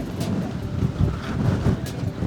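Strong, gusting wind buffets the microphone outdoors on a cold, exposed spot, a steady low roar with a few louder surges and no talking.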